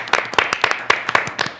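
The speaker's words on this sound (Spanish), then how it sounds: "Un aplauso." A few people clap for a guest, a close, loud run of distinct, uneven hand claps with audible individual strikes rather than a big crowd roar.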